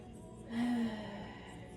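A single deep exhale during an intermediate yoga flexibility session, a soft breathy sigh swelling and fading over about half a second, close to the mic against a quiet background.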